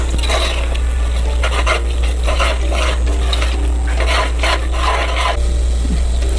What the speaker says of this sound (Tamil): புதினா கொத்தமல்லி ஆட் பண்ணதுக்கப்புறம் நல்லா மிக்ஸ் பண்ணிக்கணும்